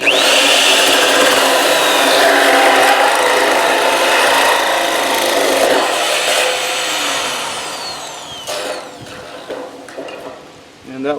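A 2.5-inch hole saw bit cuts through a piece of wood while fitting a stock tank pool pump, giving a loud, steady grinding rasp for most of the time that falters and breaks into scraping bursts near the end.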